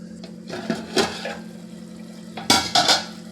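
A spoon scrapes and clinks against a pan as fish is mixed with rock salt and turmeric, in two short bursts of clatter separated by a quiet pause.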